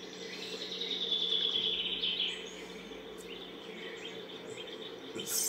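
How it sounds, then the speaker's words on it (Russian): Birds sing on a sunny summer morning at a country house, high twittering calls over a steady insect-like drone, continuous and moderately close, with no talking. "слышно, да, на видео пение птиц"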